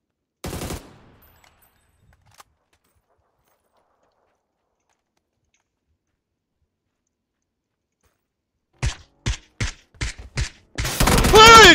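Video game gunfire cracks out as a short burst early, then a rapid series of five or six distinct loud shots near the end, followed by a dense volley; long silence separates them.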